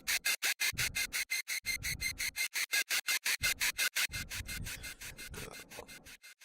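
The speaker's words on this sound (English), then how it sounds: "This is a very simple kind of cyclic resonant bass type sound with just a little bit extra pizzazz added onto it." Synthesizer bass with a cyclic, resonant tone and a bit of extra effect, pulsing in fast, steady repeating bursts throughout, loud and alone with no voices.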